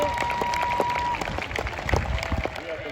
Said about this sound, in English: Let's give a big round of applause for Coach Steve Bragg.